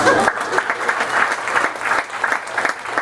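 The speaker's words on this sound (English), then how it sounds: "By round of applause" A comedy club audience claps steadily, a dense burst of applause throughout with a few louder individual claps.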